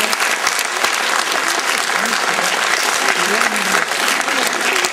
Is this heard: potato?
no